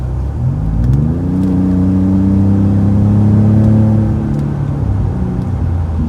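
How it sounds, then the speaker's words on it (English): A Ford F150 Platinum 3.5 EcoBoost truck with an MBRP exhaust rumbles loudly and close, its engine note rising and falling through gentle acceleration as it drives. "New MBRP exhaust."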